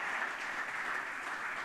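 Steady, dense applause from an audience for Graham Skipper, even and moderately distant, with no voices over it and no pauses across the short stretch.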